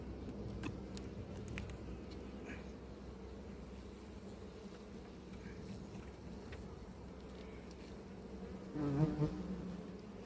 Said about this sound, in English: I think there are a few bees invading each other's colonies